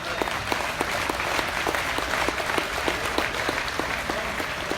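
Steady audience applause fills a livestock show arena, dense clapping sustained throughout with no pauses, honoring the president of the Arizona National Livestock Show.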